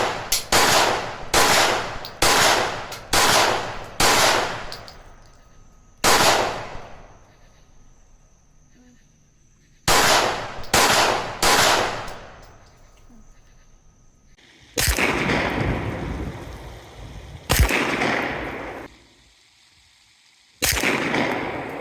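CZ P-10F pistol fitted with a Herrington Arms HC10 compensator firing +P ammunition, in several strings of loud, sharp shots, a rapid run of five, singles, then a quick three, with ringing decay and gaps between strings, near and without talk.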